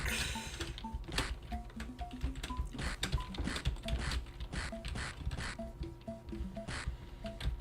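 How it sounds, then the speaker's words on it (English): Frantic, dense clacking of a computer keyboard mashed during a Sonic 2 session, continuous overlapping key hits with a mechanical rattle, and small melodic game blips sounding throughout. "I am mashing my keyboard."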